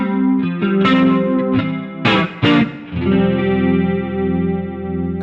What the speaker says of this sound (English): More depth for an even more pronounced chorus.